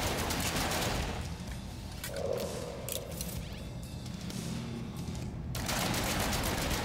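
Rapid bursts of gunfire from the video game No Man's Sky crackle over a dense, noisy background, with sharp repeated shots throughout, loud and close.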